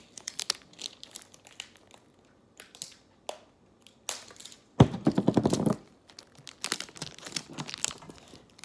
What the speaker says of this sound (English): That shipping tape is the absolute worst tape I could have used for this.